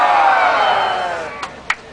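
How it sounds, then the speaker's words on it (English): A crowd lets out a big Viking roar, a loud massed shout that fades out over about a second, followed by a few sharp claps. "Big Viking roar on 3."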